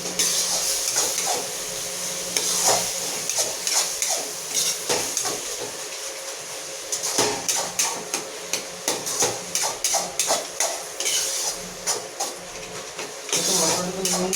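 Green chillies and onions frying in a pan for egg curry, stirred with a utensil: steady sizzle with repeated scraping and clinking strokes against the pan, busier toward the end, no talking.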